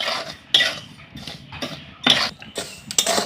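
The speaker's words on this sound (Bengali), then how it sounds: "এইভাবে নাড়াচাড়া করে লবণটা খুব ভালো করে ভেজে নিতে হবে" Salt being stirred and roasted in a pan while making homemade beet salt, heard as sharp, repeated scrapes and clinks of a spoon against the metal in irregular bursts, close and fairly loud, with no voices.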